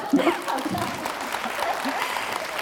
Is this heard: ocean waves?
no